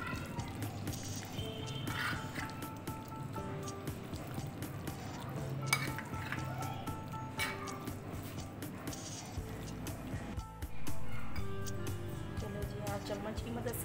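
Chicken pakora batter stirred with a spoon in a bowl, soft scraping and occasional metallic clinks running steadily under someone talking, with a brief louder swell near the end.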